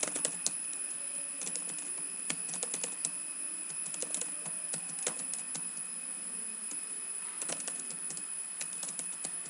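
Computer keyboard typed on steadily while entering text in MS Word, with rapid, irregular key clicks close up and a few brief pauses, no talking.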